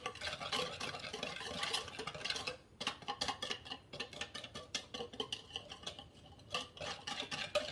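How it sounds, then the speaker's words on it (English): Sugar being whisked into a mixture for cinnamon roll dough, heard as quick, fairly quiet scraping taps and swishes of a whisk against a bowl in an irregular, steady rhythm, with no talking. "Whisk here. Get that all mixed in."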